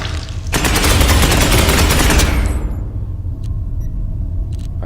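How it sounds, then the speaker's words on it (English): A sustained burst of rapid gunfire from the Space Hulk Ascension video game lasts about two seconds, loud and rumbling, then drops to a low background rumble with a few faint clicks. "fire off a shot, and still go into Overwatch"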